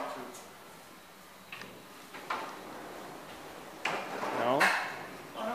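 KONE Monospace machine-room-less traction elevator door at a hospital, sliding with a few soft clunks and a closing thud, close by in a quiet hall.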